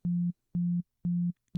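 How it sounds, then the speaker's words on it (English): Pure synthesizer sine wave tone from the Operator instrument, a steady low single-pitch note repeated four times in even on-off pulses, clean and loud with no other sound. "That's because it's a sine wave."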